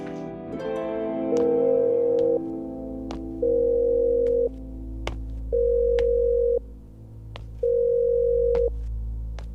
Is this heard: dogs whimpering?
no